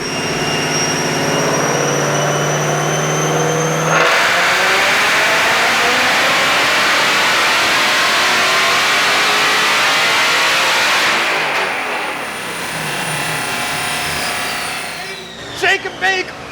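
A Whipple-supercharged 2024 Mustang GT engine on a dyno roars loud and steady at high revs for about eleven seconds, a supercharger whine climbing over it, then it winds down as excited voices break in.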